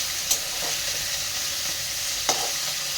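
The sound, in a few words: frying fish and brinjal with jute leaves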